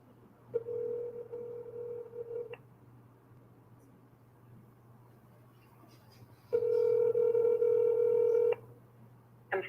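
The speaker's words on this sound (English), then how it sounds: "All right, we're dialing Glenys again." A telephone call rings out with two long ringback tones separated by a quiet gap of about four seconds, each burst loud and steady over a low background hum.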